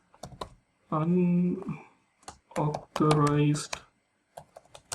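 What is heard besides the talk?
typing on computer keyboard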